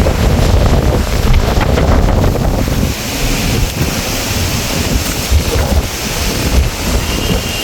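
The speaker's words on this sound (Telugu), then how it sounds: "గాలి అయితే చాలా చాలా ఎక్కువ వేస్తుంది" Strong cyclone winds during Cyclone Montha roar loudly and continuously, buffeting the microphone with heavy rushing gusts that sound almost like crashing surf, with no voices.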